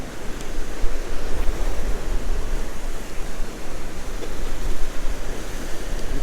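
Wind buffets across open water while waves churn and slap steadily, a broad continuous rush with gusty swells and no voices.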